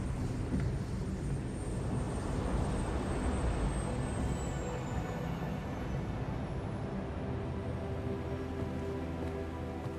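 A fixed-wing airplane in flight in the video game 007 First Light, a steady broadband engine roar that holds loud and constant throughout, with a faint high whine sliding downward partway through and no talking.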